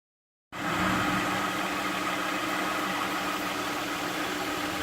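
A 2008 Ford Taurus engine turns over after a moment of silence and settles straight into a steady, even idle, close and unbroken for several seconds with no talk.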